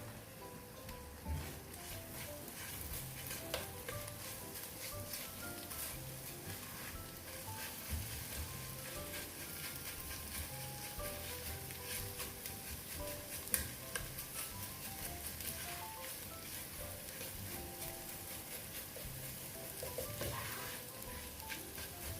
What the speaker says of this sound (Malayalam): ഞാൻ മസാലയൊക്കെ വഴണ്ടി കിട്ടാൻ വേണ്ടി ലേശം എണ്ണയും കൂടി ആഡ് ചെയ്യുന്നുണ്ട്